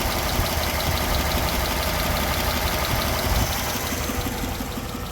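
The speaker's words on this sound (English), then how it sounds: "let's get this thing started up. And here it is at typical idle speed." A 1954 Packard engine idles steadily and evenly, a low continuous rumble with a faint ticking texture of minor valve noise, close and constant throughout.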